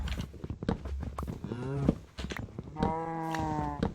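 Cattle in a Minecraft survival farm give two drawn-out, tonal moos, the second longer and louder, over faint game footsteps and clicks, with no talk.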